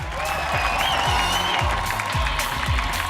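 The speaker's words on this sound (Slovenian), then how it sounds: "Dajmo jim en aplavz!" Studio audience applause on a Slovenian satirical news parody show, dense sustained clapping heard loud and close over a rhythmic music bed with low thumping beats.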